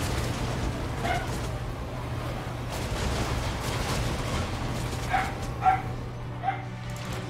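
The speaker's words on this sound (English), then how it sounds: "that dog just does not give it a rest these days" A dog in the Total War: Warhammer 2 strategy game yips and barks in short bursts, a few faint calls early then a quick cluster of three near the end over a steady game hum.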